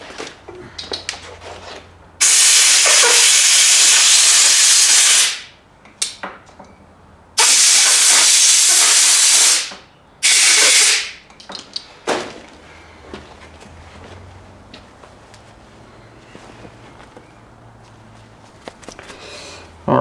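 Loud bursts of compressed air blasting into a small fuel container during a Yamaha outboard repair, three roaring hisses of a few seconds each separated by pauses, close and harsh, with quieter handling noises between.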